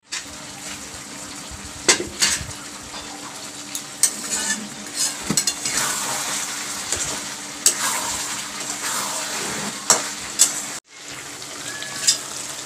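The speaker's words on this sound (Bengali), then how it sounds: "আমি এদিকে রান্নাটা কষাচ্ছি মাংসটা" Meat being stir-fried for a Bengali kosha in a home kitchen pan, a steady sizzle with repeated spatula scrapes and stirring knocks, close and fairly quiet, cutting out briefly before resuming.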